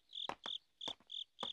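Bell crickets chirp in a quick, regular series of bright, ringing trills, close and clear against a quiet background.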